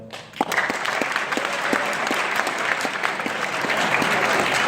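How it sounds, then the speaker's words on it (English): Comedy-show audience claps together, a dense, steady wash of applause running loud and continuous from start to finish, with sharp individual hand claps standing out near the front. "Clap if you're like excited for it."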